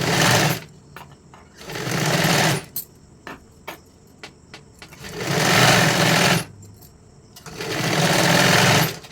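A sewing machine stitches a size 44 katori blouse in four loud, close bursts of rapid whirring, separated by quiet gaps filled with clicks and handling of the fabric.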